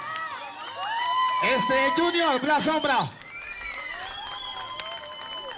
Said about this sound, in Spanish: El aplauso, muchachos, el aplauso.